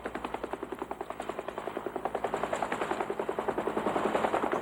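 Helicopter flying over a building on a fortified reef outpost in the Spratly Islands, its rotor beating in a fast, steady chop that grows gradually louder and nearer over several seconds.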